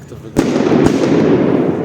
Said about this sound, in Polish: Ktoś tam petardami strzela i tak znienacka nimi nawala